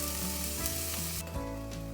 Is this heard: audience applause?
no